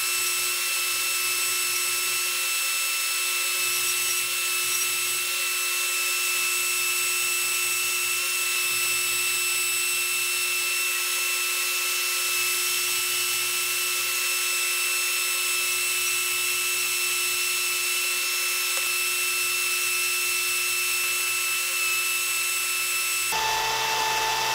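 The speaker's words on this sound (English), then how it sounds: "So I just use the belt grinder" A belt grinder shapes a knife handle, giving a loud, continuous high-pitched abrasive whine that holds steady for over twenty seconds, with faint rumbling underneath and no talking.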